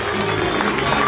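Loud, dense clapping from a crowd at a children's Christmas show at OK Corral, a brief burst of steady applause with some cheering and voices mixed in.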